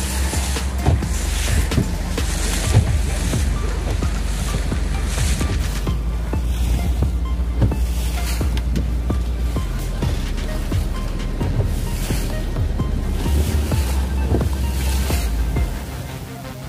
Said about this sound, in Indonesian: Ombaknya luar biasa untuk pagi hari ini di area TKP Pantai Nglun.